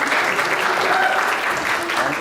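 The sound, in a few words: loud audience applause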